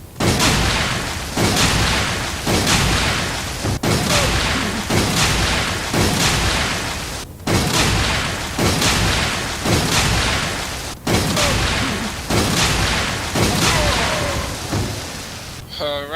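Acid rounds fired at an enemy in the video game Resident Evil 5, a series of about eight loud, regularly spaced gunshots with booming tails, each blast ringing out for over a second before the next.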